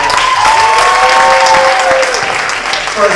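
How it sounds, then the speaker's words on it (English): A crowd at a girls' high school basketball game applauds senior players, a loud sustained round of clapping and cheering in a gym, with a long whistle-like tone sliding through the middle. "So give them one more round of applause"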